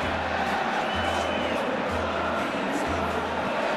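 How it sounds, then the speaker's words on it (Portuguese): A dense, roaring crowd of Fortaleza football fans celebrates a goal in a stadium at a Copa do Brasil match against América Mineiro, with cheering, rhythmic low drumming and chanting filling the whole stretch. "festa da torcida tricolor"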